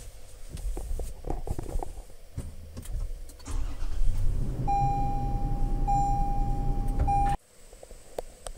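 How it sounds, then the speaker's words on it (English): A 2023 Toyota 4Runner cranks and starts, then settles into a close, steady idle while a high electronic chime rings, before the sound cuts off abruptly. "I'm going to start the vehicle."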